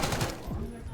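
Rapid gunfire from a first-person shooter game crackles in a dense, continuous burst, loud and close throughout.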